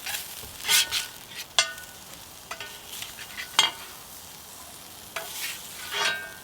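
Lobster meat stirred in a pan with a squirt of Sriracha, close and fairly soft, with repeated scraping and clinking strokes over a light sizzle.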